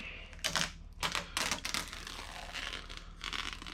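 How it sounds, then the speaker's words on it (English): A blade slices and trims vinyl wrap on a Geo Tracker, making several short, close scratchy tearing bursts against quiet background noise. No one speaks. "I'm just going to cut this chunk out"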